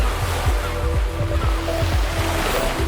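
AI-generated beach ocean waves, a dense, continuous wash of surf noise with a broad hiss and low rumble, loud and steady through the short stretch without speech.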